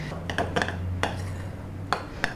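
Spoon scraping and knocking against a bowl while a whole packet of crushed biscuits is stirred into melted butter for a cheesecake base, a few sharp clinks over steady background noise.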